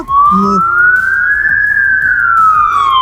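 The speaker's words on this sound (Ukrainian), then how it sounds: "Тому зараз проїде швидка." A loud ambulance siren wails close by as it passes, its tone climbing slowly and then falling away in one long sweep.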